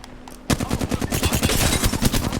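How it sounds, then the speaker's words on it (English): Rapid automatic gunfire from the video game Apex Legends, a loud sustained burst of closely spaced shots that starts abruptly after a short quiet lead-in and rattles on without pause. "They're shooting at me."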